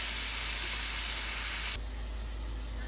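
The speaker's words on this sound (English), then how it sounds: "I have the 2 chicken breasts cubed up, and I am going to brown them" Cubed chicken breasts sizzle in about two tablespoons of butter for parmesan garlic chicken, a soft steady hiss that drops noticeably quieter partway through.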